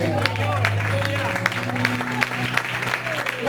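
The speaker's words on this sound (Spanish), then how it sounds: "Dale un aplauso a su gloria" A church congregation clapping together, steady rhythmic applause close by, with voices and a sustained organ or keyboard tone underneath.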